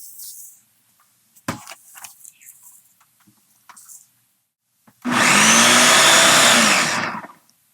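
A kitchen blender grinds strawberries into juice for homemade jam, a loud steady whirr running about two seconds after scattered quiet handling clicks and knocks.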